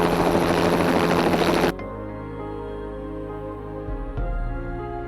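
Loud, broadband helicopter rotor noise roars for nearly two seconds over a frozen lake while ferrying drilling gear, then cuts off abruptly, leaving a low hum and faint thuds.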